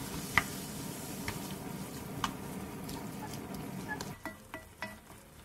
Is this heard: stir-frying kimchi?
yes